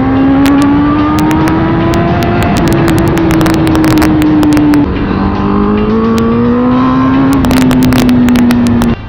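A Honda CBR1000RR-R SP sport motorcycle accelerating hard: a loud, close, high-pitched engine wail climbs steadily through the gears, dips briefly at a shift near the middle, then rises again, continuous throughout with no talking.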